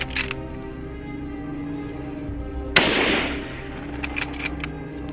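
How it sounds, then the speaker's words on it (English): A single sharp gunshot fired at a charging wild boar in a field cracks loudly and rings out into a decaying echo over the next second or so. "The sound of the gunshot echoes."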